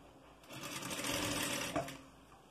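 Sewing machine stitching bias tape along school trousers, a steady continuous whir that swells over about two seconds and then eases off, close and alone with no talking.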